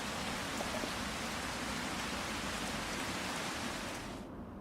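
Steady rain pours down in the Farming Simulator 25 video game, a dense, even hiss that fills the whole clip and then drops away abruptly at the very end.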